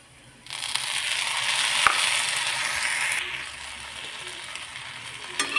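Chickpea greens sabzi with added dal, stirred in a pan: a soft, close scraping and sizzling rustle that runs for about three seconds and then settles into a quieter hiss, with a faint clink near the end.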